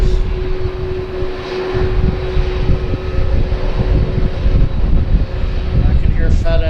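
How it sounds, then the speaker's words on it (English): A FedEx cargo aircraft spools up at Harrisburg airport at night, a loud, steady engine roar with a constant whine, heard from a distance without pause. "I can hear FedEx starting up over there."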